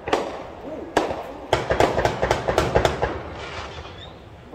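Loud, close bursts of New Year's fireworks or gunfire on the north side of Columbus, Ohio: a run of sharp cracks and pops in quick, uneven succession, echoing over a steady background rumble.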